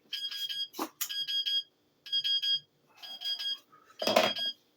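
A heat press gives several rapid electronic beeps in short clustered bursts, shrill and tonal, with a clunk and brief rustle near the end.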